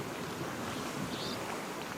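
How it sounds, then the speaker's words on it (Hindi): Large ocean waves roll and wash steadily beside a windy, cloudy campsite, a continuous broad roar of surf mixed with wind noise, fairly quiet and without talk. "मछली तो नहीं, सिर्फ लहरें हैं, बड़े बड़े लहरें ही हैं भाई"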